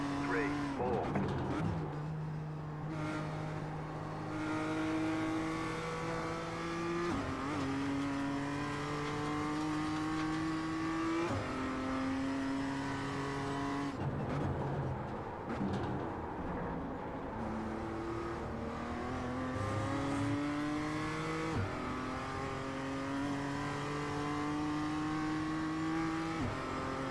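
BMW M2 CS race car engine in the iRacing video game, revving hard and climbing through the gears again and again, with a steady loud drone from the rising and falling engine note across the whole stretch.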